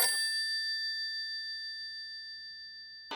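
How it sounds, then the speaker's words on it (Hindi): A steady electronic ringing tone from an incoming phone call from a restaurant, sounding as one long sustained bright ring that fills the moment and is briefly cut at the end. "पद्मावती भोजनालय से फोन है, बात करनी ही पड़ेगी।"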